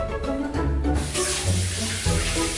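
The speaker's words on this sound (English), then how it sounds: "I'm gonna put my hands under really cold water." Cold tap water running from a kitchen faucet over hands, a steady splashing rush with someone talking over it.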